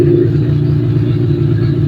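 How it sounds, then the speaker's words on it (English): A Honda Civic EF engine idles steadily up close, a low, even rumble with a faint rhythmic pulse and no voices. "Now that's how it should idle."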